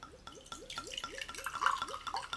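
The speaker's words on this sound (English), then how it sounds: "actually, let's pour it into one of the glasses, do it properly." Whisky trickles from an Atari decanter's controlled spout into a glass, a soft, close run of small drips and liquid splashes with a faint glassy ring near the end.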